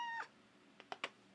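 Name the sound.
cat meowing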